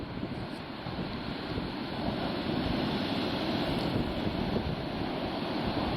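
Atlantic Ocean waves breaking at Smith Point, Long Island, New York, a continuous roar of surf with heavy wind buffeting the microphone, steady and loud throughout.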